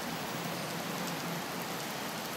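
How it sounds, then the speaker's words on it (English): Steady rain falling on a surface, a dense even hiss of pattering drops that stays constant and fairly loud throughout, with no voices. "Today is also a rainy day."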